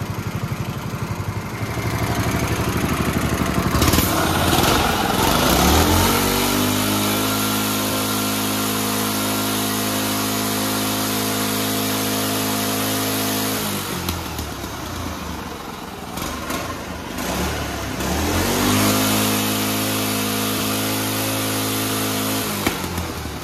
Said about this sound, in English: The engine gonna keep pulling. That's what'll happen when you take the governor off.